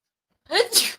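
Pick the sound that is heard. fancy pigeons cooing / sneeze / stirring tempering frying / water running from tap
sneeze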